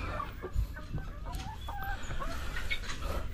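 Brown hens clucking softly while they eat, a scattering of short murmuring clucks and pecking sounds close by, fairly faint.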